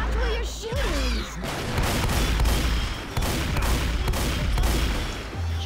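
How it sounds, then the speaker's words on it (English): A heavy .50 cal machine gun in Left 4 Dead 2 fires loud, sustained automatic bursts with brief pauses, set among dense game combat noise. "Jeez, that 50 cal is strong."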